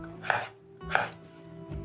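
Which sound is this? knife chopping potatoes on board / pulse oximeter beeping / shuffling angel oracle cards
knife chopping potatoes on board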